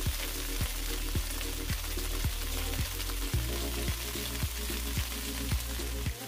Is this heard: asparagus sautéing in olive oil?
yes